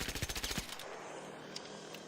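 Automatic gunfire in a video game, fired while controlling the recoil, rattles out as a rapid burst of about ten evenly spaced shots over half a second, then cuts to a fading echo and faint room tone.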